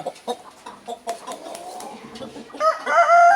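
Young six-month-old roosters and hens in a Turkish coop cluck in short scattered bursts, then a rooster crows loudly and near at the end, with faint farm background.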